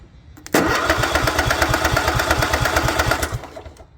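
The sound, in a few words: Craftsman lawn tractor engine cranking without starting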